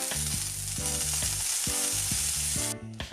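Lamb chops fry in a hot pan with their fat rendering down, giving a loud, continuous sizzle close up with no talk. The sizzle carries a rhythmic low clatter throughout and drops off abruptly near the end.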